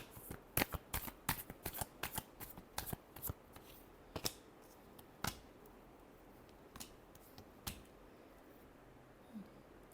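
Tarot cards are shuffled in a rapid burst of crisp riffling snaps, then slower intermittent card flicks, close and clear in a quiet room with no talking.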